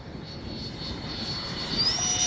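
An H-King L-39 64mm EDF radio-controlled jet flies overhead, a steady broadband ducted-fan whoosh with a high whine rising in pitch near the end as it gets louder and closer.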